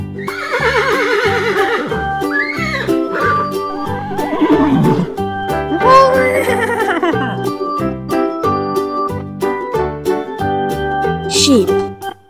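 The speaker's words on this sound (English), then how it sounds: "Horse." A horse whinnies in several loud, wavering neighs with a hint of clip-clop hooves, laid over a bouncy children's music track with a steady beat.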